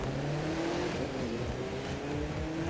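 Sleeper car engine revving hard in the racing video game The Crew 2, a loud sustained roar with rising and falling pitch as it accelerates, heard alone without talk.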